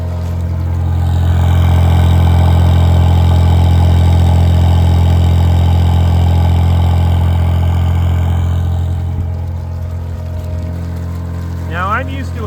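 Diesel engine of a home-built personal submarine on surface trials, a loud, steady low drone with a strong rhythmic hum that revs and holds for several seconds before easing down, with faint voices near the end.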